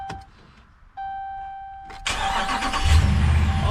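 A truck engine with a newly installed starter turns over and catches, after a couple of brief electronic beeps from the cab, then settles into a steady running rumble nearby.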